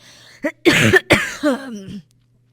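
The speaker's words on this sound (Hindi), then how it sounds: "बहुत खांसी आ रही है" A person coughs several times in quick, harsh bursts close to the listener, with a brief pause between them.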